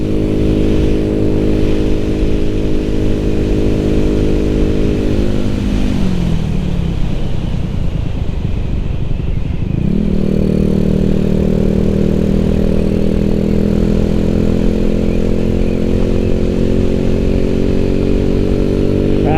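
A W125RR motorcycle with a worn engine and a slipping fourth gear drones loudly and close while ridden. The engine pitch dips midway as it slows or shifts, then climbs again, with no talk.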